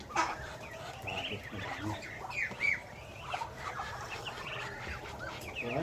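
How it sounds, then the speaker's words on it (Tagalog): Chickens and ducks gather in a rural yard in the Mindanao countryside while being fed, producing a busy, continuous layer of clucks and calls with brief voices speaking over the flock. "papakain ng mga pato, manok"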